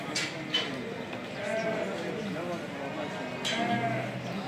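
Sheep bleat at a livestock market, several calls rising over a busy background murmur of voices and crowd noise.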